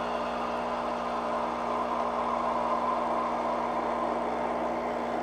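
A Rancilio Pro X espresso machine's steam wand heats milk with a steady, even hiss and a low mechanical hum underneath, continuous and close, with no talk.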